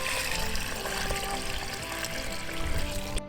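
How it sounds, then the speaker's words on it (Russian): Water streams into a pot of chopped fruit and whole plums for compote, a continuous, even splashing pour close by with no pauses or speech. "Заливаем водой."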